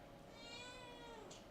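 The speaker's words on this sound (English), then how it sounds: "She just sits on my lap, just meow, meow." A cat meowing close by, one drawn-out rising and falling meow over a quiet background hum, no talking.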